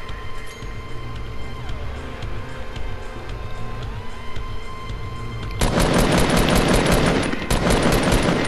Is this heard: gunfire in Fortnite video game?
yes